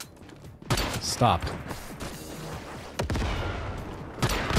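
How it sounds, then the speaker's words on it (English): An RPG is fired at the player in the Once Human video game, with sharp blasts and thumps around the first second and again near three seconds amid game noise, while a voice speaks briefly over the action. "This guy just fucking shot an RPG at me."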